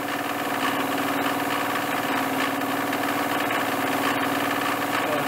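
A milling machine fitted with a carbide-insert milling cutter runs steadily and loudly, a dense continuous mechanical whir with a constant engine-like hum and no pauses or voices.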